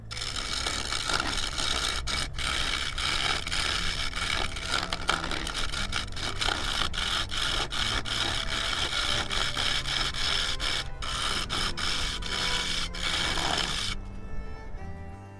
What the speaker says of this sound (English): This is how fast I'm turning in real time.